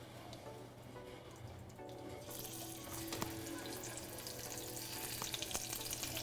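Scallops searing in a hot frying pan give a continuous close sizzle that grows louder and brighter partway through, with no speech over it.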